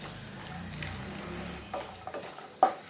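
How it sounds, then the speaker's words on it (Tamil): Cashews, almonds and pistachios fry in melted ghee, giving a quiet steady sizzle with occasional light stirring scrapes and a sharper clink near the end. "பாதாம், பிஸ்தா, கோல்டன் ப்ரௌன் வரணும், வறுத்து எடுத்துக்கலாம்."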